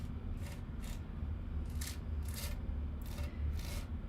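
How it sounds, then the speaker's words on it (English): Scraping off excess material while stamp crafting: a quiet, repeated scraping stroke, about seven short rasping passes at a steady rhythm against a low background hum. "I'm going to scrape off this extra here."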